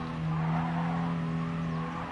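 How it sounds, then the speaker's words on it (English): Tires squeal steadily as a front-wheel-drive car power slides in Gran Turismo Sport, a sustained skidding whine over engine drone, loud and continuous throughout. "That was not the most beautiful front wheel drive power slide you've ever seen."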